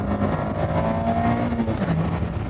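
A Mazda Miata ND3 driven hard on the Sonoma race track: a loud, continuous engine drone heard close, its pitch holding steady and then dipping as the revs change.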